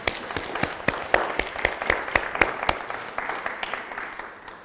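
A conference audience applauds Sandrine with close, lively clapping and a few sharp individual claps, tapering slightly toward the end, with no speech.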